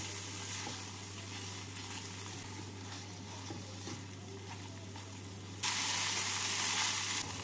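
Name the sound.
boiled fish frying with spices in a pan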